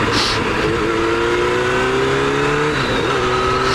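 A 1999 Yamaha R1 sportbike engine revs up through the gears, its rising pitch holding steady, dipping at a shift and climbing again, loud and close with constant wind roar.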